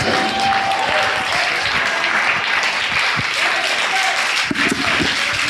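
A church congregation applauds the Lord, a dense, loud, continuous clapping that fills the room throughout, with a few low thumps and faint voices mixed in.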